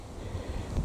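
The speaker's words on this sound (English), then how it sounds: "It's fairly windy today." Low, blustery wind in a back garden rumbles against the microphone, steady with a few stronger gusts toward the end.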